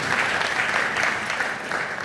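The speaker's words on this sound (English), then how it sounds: "Kenyans, you must clap for yourselves." An audience at a Kenyan political gathering breaks into steady, loud applause, dense clapping from many hands sustained for a couple of seconds.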